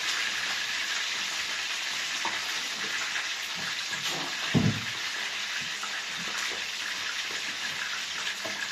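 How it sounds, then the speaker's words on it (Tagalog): Chicken marinated for 24 hours, sizzling in hot oil in a pan for crispy adobo, a steady broadband hiss with a brief louder crackle midway, no talk. "Prito-prito muna tayo."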